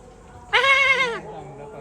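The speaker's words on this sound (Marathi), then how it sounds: "बघू शकता बकरा कसला मोठा आहे बघा." A large male goat lets out one loud, quavering bleat lasting about a second, close by and outdoors among mango trees.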